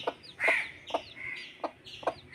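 A hen clucks in short, repeated bursts, four or five sharp calls spaced roughly evenly, close by with a faint background hum.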